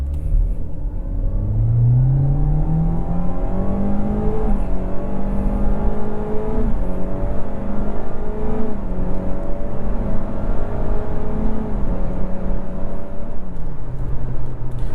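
A 2025 Kia K4 EX sedan accelerates hard in sport mode with traction control off, its engine droning loudly and rising through several gear changes over a steady low rumble, with no talking.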